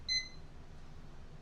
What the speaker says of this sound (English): And we're going to set our timer